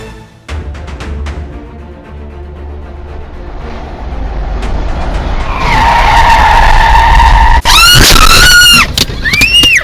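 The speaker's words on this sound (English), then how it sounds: "The moment a big rig flipped on I-95 was captured on dashcam, unfolding in just seconds." Dashcam recording of a big rig truck skidding and flipping on the I-95 highway: a rising roar of traffic and scraping builds into loud, wavering tire screeches near the end, with no talk.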